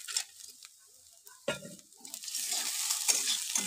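Suji pulao with fried nuts stirred in a pan, a spoon scraping and tossing the grains in short strokes over a soft, steady sizzle that grows fuller toward the end.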